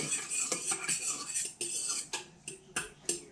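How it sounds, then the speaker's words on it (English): A utensil clinks lightly against a bowl while gently stirring a yeast and water mixture for pizza and focaccia dough, giving a steady series of soft, rhythmic taps and scrapes close by. "You just want to give this a real easy little stir to get some of the yeast lumps out."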